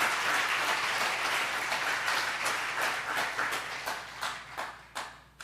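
Sustained applause from a church congregation in a Spanish-language worship service, a dense wash of clapping that thins out toward the end into a few scattered individual claps.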